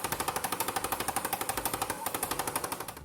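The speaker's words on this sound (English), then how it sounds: "The owner of this Mazda had changed his own spark plugs, but forgot to install one of them" A Mazda engine running with one spark plug missing from the engine gives a rapid, steady machine-gun-like popping, evenly spaced and loud throughout, with no voices.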